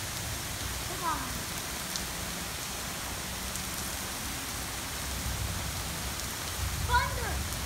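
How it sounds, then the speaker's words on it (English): Soft, steady rain falling outdoors, a faint continuous patter with a few brief distant chirps or calls over it. "Tut tut, looks like rain."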